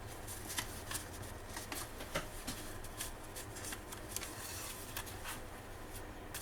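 Paper scrapbooking cards being handled and shuffled, a close run of soft crisp rustles and flicks that continues without a break, with no talk.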